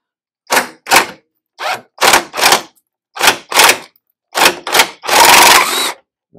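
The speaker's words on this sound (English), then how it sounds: "I'm going to take it easy because this impact gun is pretty strong" Pneumatic impact gun loosening a rusty bolt on an 8th-gen Honda Civic Si, loud close bursts of rapid hammering in short pairs with pauses, ending in one longer sustained rattle.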